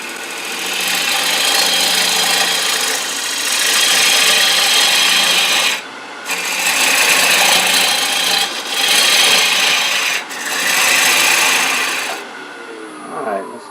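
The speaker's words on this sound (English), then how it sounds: "we're going to come in from the side and then just start nibbling away and getting the walls thinner" Wood turning on a lathe as a tool thins the walls of a wooden spatula pot, a steady loud rasping scrape in long bursts with brief pauses between cuts, no talking.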